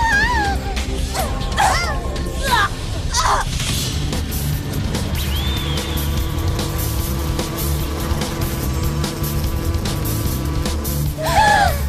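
A destructive cicada monster in a French-dubbed Mew Mew Power cartoon buzzes steadily and loudly throughout, mixed with chirping squeals, crashing hits and other cartoon effects.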